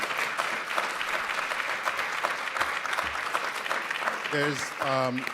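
Audience applause at an animation presentation, continuous dense clapping from a crowd, with voices cutting in over the clapping toward the end.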